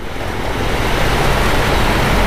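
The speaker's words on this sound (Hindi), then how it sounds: "पानीपत पहुंचते ही क्या तूफानी बारिश स्टार्ट हो गई" Heavy stormy rain pours down near Panipat during a motorcycle ride on a Royal Enfield Meteor 350, a loud, steady, dense wash of noise that continues unbroken throughout with no voices.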